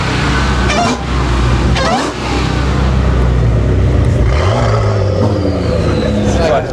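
A McLaren 570 sports car engine revs and accelerates nearby at an outdoor car event in Cyprus, a loud rising roar with people talking over it.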